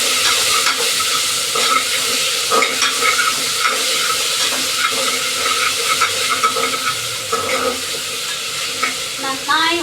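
Dal khichdi ingredients sautéed in a pan, a loud continuous sizzle with repeated spatula scrapes and stirring clatter close by, no voices.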